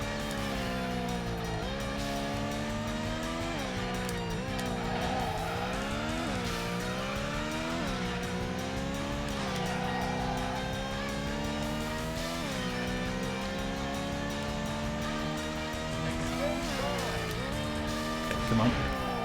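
Engine of a racing car in a Tokyo road race video game, rising and dropping through repeated gear shifts with intermittent tire squeal, steady and moderately loud throughout.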